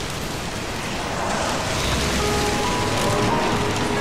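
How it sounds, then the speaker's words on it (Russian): Steady rain falls in a dense, even wash of noise that holds without pause and swells slightly louder midway through. "Идет дождь."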